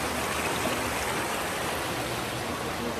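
River water flowing down a mountain, a steady, dense rushing wash that fills the whole stretch at constant loudness, close by and with no voices.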